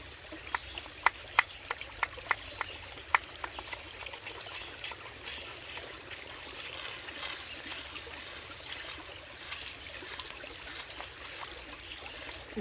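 Shallow creek water trickling and babbling steadily beside a hand pump Survivor water filter, with a few sharp clicks and splashes near the start over the continuous outdoor flow.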